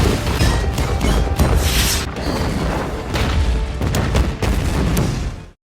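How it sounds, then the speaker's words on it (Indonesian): Bombs detonating and tearing apart a fortress in a war film, heavy continuous booming blasts and crashing debris filling nearly six seconds before cutting off abruptly. "rangkaian bom yang telah dipasangkan oleh Skinner meledak dan menghancurkan hampir seluruh bagian dari benteng tersebut"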